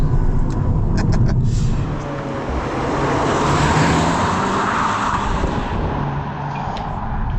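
A 2026 Cupra Leon VZx accelerates at full power through a corner, its engine a loud, steady roar from inside the car, rising and sustained, mixed with road and wind noise.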